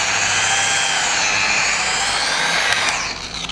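A rotary polishing tool from a 3D polish kit works over sandpaper scratches, giving a steady, loud whirring whine that holds close and even before easing off at the end, with no talk.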